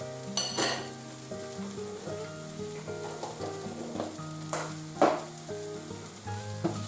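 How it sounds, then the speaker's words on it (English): Butter melting and foaming in a hot pan for beef stroganoff, a steady close sizzle and crackle with occasional utensil scrapes and clinks, no talking. "Get that melted so it's nice and foaming."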